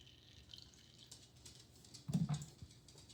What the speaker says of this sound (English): And then we'll put 10 more milliliters of water in.